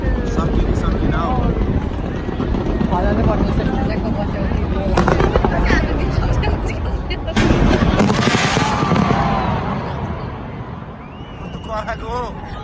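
Fireworks bursting over Sydney in 2019 rumble and crack loudly and continuously, with sharper bangs in bunches, under a busy crowd with people talking nearby.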